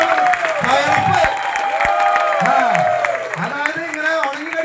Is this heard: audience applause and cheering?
yes